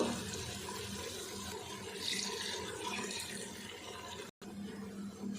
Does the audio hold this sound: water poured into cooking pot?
yes